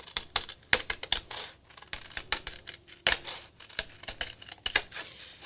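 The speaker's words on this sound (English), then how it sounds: "So be sure you use paper scissors and not good fabric scissors when you're cutting out." Paper scissors snip through cardstock in a steady series of crisp, close cuts, each blade closing with a sharp click and rustle, heard alone with no talking.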